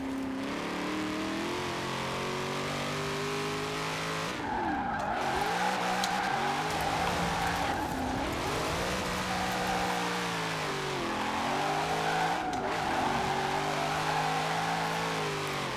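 Cadillac CTS-V drift build in Forza Horizon 4, engine revving up and down in repeated swells while tires squeal through slides, loud and continuous.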